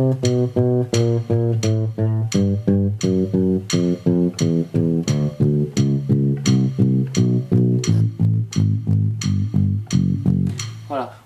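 Bass guitar finger exercise running from index to little finger, a steady sequence of plucked, evenly spaced notes stepping along the neck, clear and close with no talking.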